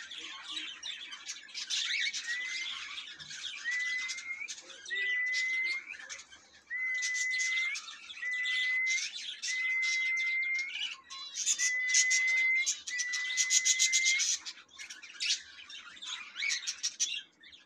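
Many finches, including zebra finches, white, isabel, light orange and Bengalese finches, chirp and sing inside an indoor aviary, with bursts of overlapping calls and short repeated song phrases rising and falling throughout, fairly close and busy.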